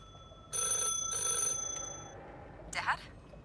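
Telephone ringing in the video game The Last Caretaker: two clear electronic rings in quick succession, fairly close and loud, followed by a short trailing tone and a brief bright chirp.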